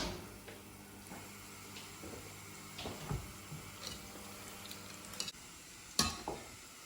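Rice sizzling in a hot pan with sesame oil, a steady quiet frying hiss broken by scraping stirs and a few sharper clinks of the utensil, with no talk.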